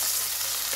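Onion sautéing for a beef and cabbage dish, with a steady close sizzle of frying filling the short moment, no voices over it.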